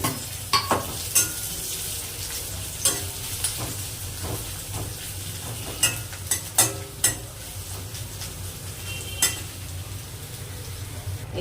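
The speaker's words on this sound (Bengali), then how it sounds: "তেল এই আলু ভাজার জন্য প্রথমে পেঁয়াজ দিয়ে করবো আর কি পেঁয়াজ কাঁচা লঙ্কা দিয়ে" Onions and green chilies fry in oil with a steady sizzle and frying hiss throughout, with scattered sharp pops and crackles, close up and without talk.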